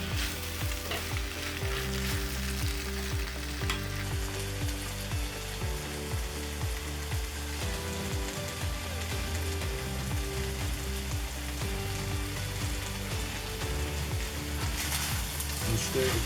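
Red pepper, green pepper and onions sizzling in a cast iron skillet for a Mongolian beef stir fry: a steady, even crackling hiss running throughout beneath background music.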